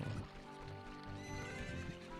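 Horse neighing in Zelda: Ocarina of Time, a steady whinny with faint clip-clop hooves beneath, game music and ambience continuing throughout the short moment.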